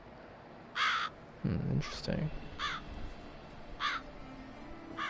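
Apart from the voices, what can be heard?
crows cawing in the video game Witcher 3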